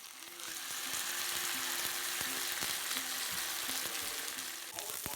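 Emperor fish fillets fry on a medium flame, giving a steady, dense sizzle that holds even and close throughout with a few faint clicks of the pan, with no voices.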